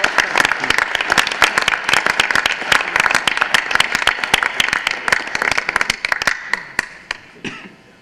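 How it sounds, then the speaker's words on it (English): A crowd at a school board meeting applauds with brisk, dense clapping that carries on steadily for several seconds before thinning and fading out at the end. "let's have a big round of applause"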